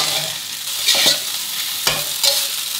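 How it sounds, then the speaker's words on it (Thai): Rice stir-fried with canned fish in a wok, a steady sizzle with sharp metallic scrapes and tosses of the spatula recurring every second or so, close and loud with no talking. "เรายังไม่ปรุงรสชาติลงไปนะครับเราผัดข้าว ให้เป็นตัวแบบที่เราต้องการก่อนครับ"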